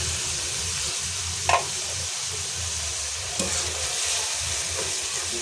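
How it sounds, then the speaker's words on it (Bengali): Green peas tossed into hot spice masala in a pan, with a steady close sizzle and frying hiss under a couple of brief spatula scrapes against the metal. "মশলা কষানো শেষ, দিয়ে দিচ্ছি মটরশুঁটিগুলি।"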